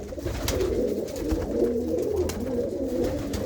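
Pigeons coo steadily in a loft with long nesting boxes, a dense, overlapping layer of low throaty calls close by with no speech.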